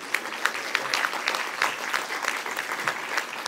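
Applause from an audience at an organization's director-general report, a moderately dense patter of many hands clapping, steady and fairly soft.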